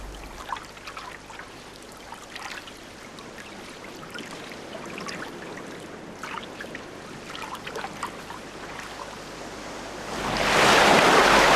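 Ocean waves wash back into a rock pool along a rocky shore, a low steady surf wash that swells into a loud rushing surge near the end, with some wind noise on the microphone.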